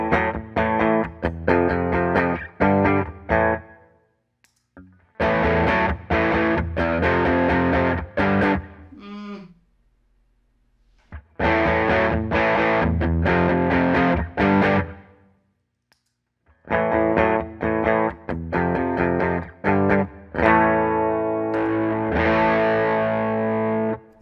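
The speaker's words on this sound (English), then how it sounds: "when I kick that pedal on, I want to make sure it's just a little bit louder than the clean signal" Electric guitar through a switched-on effects pedal plays distorted chords and riffs in three bursts separated by short silences, loud and up close with no talking.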